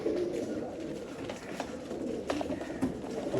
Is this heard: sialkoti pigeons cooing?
yes